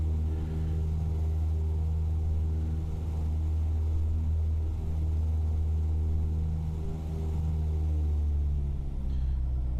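A piston aircraft engine holds a steady run-up during a magneto check in Microsoft Flight Simulator, a continuous loud droning hum with a constant pitch and no voices.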